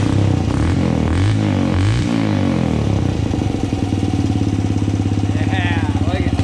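Travis Pastrana's Suzuki motorcycle engine idles loud and close after a kick start, a steady rapid thumping putter that settles a little lower as the idle is brought down.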